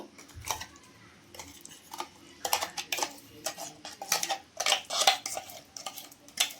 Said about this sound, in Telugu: చింతపండు గుజ్జు కూడా వేసేసుకొని బాగా ఒకసారి కలుపుకుందామండి